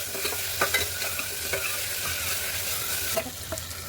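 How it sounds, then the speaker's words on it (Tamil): Ginger garlic paste and tomato sautéing in a hot pan for tomato rice, a steady close sizzle with intermittent scraping stir strokes and no voices. "போட்டு அந்த பச்சை வாசனை போகிற வரைக்கும் நீங்கள் வதக்கணும்."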